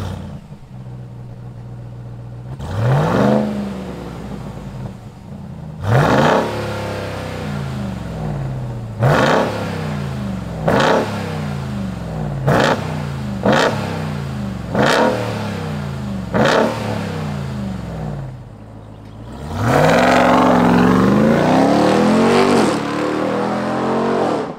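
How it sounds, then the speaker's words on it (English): A supercharged 2021 Ram TRX pickup engine revs hard in a series of sharp bursts, about eight throttle blips with gaps between, then a longer sustained roar near the end. "Let's fire up this TRX and hear its roar."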